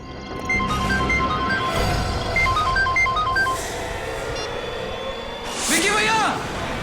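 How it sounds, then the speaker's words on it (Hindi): A melodic phone ringtone plays repeatedly, a bright tune of short beeping notes, with a voice speaking over it and a brief whooshing effect near the end. "ये रिंगटोन तो बढ़ती ही जा रही है।"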